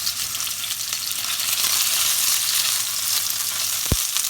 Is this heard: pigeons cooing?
no